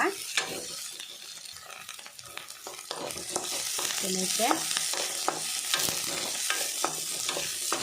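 Whole spices such as cinnamon, clove and star anise sizzle in hot oil in a pan, a dense, continuous close crackle broken by frequent stirring scrapes and clicks, with no talk.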